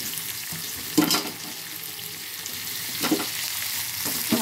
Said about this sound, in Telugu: ఇంక పప్పు తాలింపు వేసి ఇదే కళాయిలో మనం అప్పడాలు వేపేసుకుంటాం ఫ్రెండ్స్.